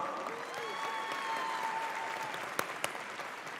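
Audience clapping at a graduation ceremony in a large hall: a steady, fairly distant patter of applause with a couple of sharper claps near the end, while a tone rings faintly underneath.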